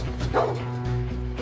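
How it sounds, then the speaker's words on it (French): A dog in a garden, off its leash, charging a fence and barking, giving a few loud, tonal barks and yips close by, with a voice overlapping. "Le chien était dans leur jardin sans laisse et il a chargé la clôture en aboyant."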